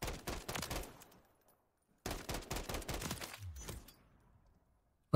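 In a video game, an SVA rifle fires in burst mode: two loud runs of rapid cracking shots, each trailing off, separated by a short pause.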